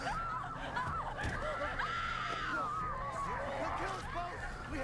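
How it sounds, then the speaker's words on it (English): Screams ring out in the Resident Evil Village demo game amid frantic laughter and overlapping voices, a continuous dense wash of shrieks and chatter throughout. "I hear lots of screaming"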